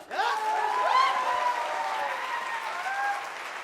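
An audience claps and cheers for a few seconds, with whoops rising above steady applause.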